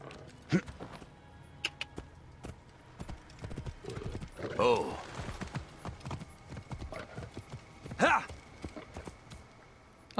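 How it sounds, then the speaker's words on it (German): Horse in the video game Assassin's Creed Origins, with hooves clip-clopping in bursts and a couple of short whinnies, under someone talking over the gameplay. "ich schnapp mir jetzt aber da drüben das Pferd."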